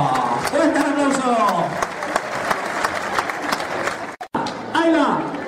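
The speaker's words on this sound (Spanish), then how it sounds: "¡Fuerte el aplauso para este niño!" A crowd applauds loudly and steadily at a bullfighting exhibition in Montánchez, with excited voices shouting over the clapping; a brief pause near the end, then the cheering resumes.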